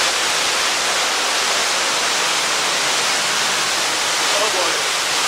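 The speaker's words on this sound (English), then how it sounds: "the waterfall there." A waterfall roars as a loud, dense, steady hiss of rushing water filling the whole moment, heard from close by with no breaks.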